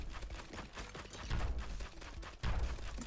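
Gunfire in a Roblox game, a muffled burst of rapid shots with a couple of heavier thumps standing out, moderately loud over a busy, cluttered game background.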